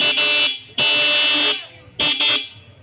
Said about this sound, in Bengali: আমাদের হর্নটা লাগানো হয়ে গেছে, এখন বাজারে দেখছি